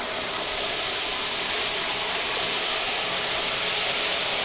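A newly installed rain shower head sprays water in a steady, loud, unbroken hiss with no voices.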